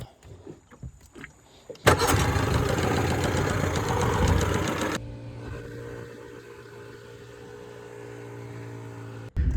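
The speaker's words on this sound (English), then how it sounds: "the motor actually runs amazing" A boat's outboard motor starts up loud and close after faint knocking, runs for about three seconds at a rough, steady roar, then drops to a lower, lighter idle hum that continues before a final jolt.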